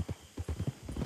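A Belgian Draft Horse in Red Dead Redemption 2 clip-clops along in a quick, steady run of hoofbeats, close and moderately loud, with no talk over them.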